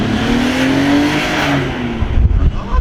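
A Nissan R33 GT-R V-spec engine revs hard as the car accelerates in second gear, a loud close rising roar for about two seconds before giving way to rumbling buffeting.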